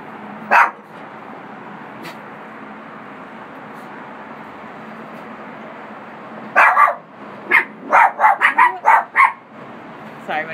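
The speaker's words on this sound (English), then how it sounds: "my dogs like to bark at security" Dogs bark indoors, a single bark early, then a quick burst of several sharp barks and yips after a quiet stretch, fairly close and loud.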